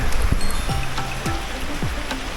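Heavy rain pours down steadily and loudly on a rural garden plot, a dense continuous hiss broken by a few low thumps and knocks.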